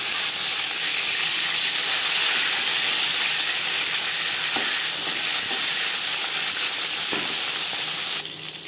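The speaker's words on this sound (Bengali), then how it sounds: "একটা সাইড ভাজা হয়ে গেলে অপর সাইডটা উল্টে দেব।" Pieces of rui fish frying in hot oil for a curry, a loud continuous sizzle and crackle with occasional sharper pops, steady until it eases slightly at the end.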